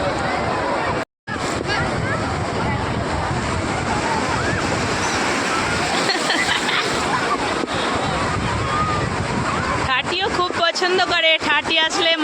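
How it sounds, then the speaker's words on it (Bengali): Continuous roar of ocean waves surging and breaking nearby, loud and windy, with people's voices briefly over the surf near the end. "এই ঢেউ আসছে"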